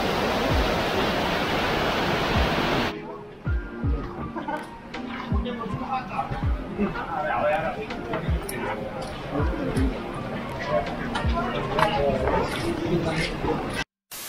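Water pouring down from high up after a cloudburst in Nainital, Uttarakhand, a steady loud broadband roar filling the scene in fog, with scattered knocks and a voice speaking over it.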